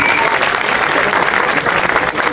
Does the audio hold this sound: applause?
yes